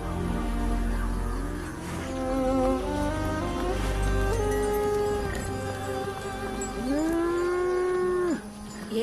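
Cattle, bulls and buffaloes moo loudly and close, several long drawn-out calls overlapping one another, with a herd's low background rumble and no talk.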